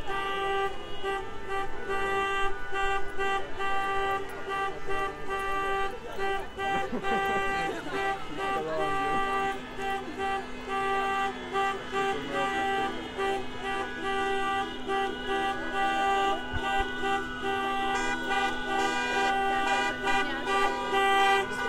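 Car horns honk continuously at a women's street protest in Białystok, layered sustained toots and blaring tones over crowd noise and traffic, loud and close.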